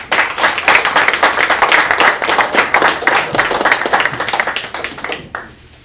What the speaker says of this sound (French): vous êtes applaudis